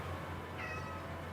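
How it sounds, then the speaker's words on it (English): One cat gives a brief meow midway through, fairly faint against a constant low hum and soft background noise. "Super meows."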